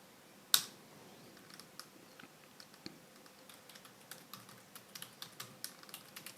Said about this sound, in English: I'm re-entering the password again.